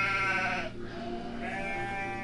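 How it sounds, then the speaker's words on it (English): Sheep bleat in a drawn-out, wavering cry, loud and near, followed by a second, quieter bleat. "Sheep, are you ready?"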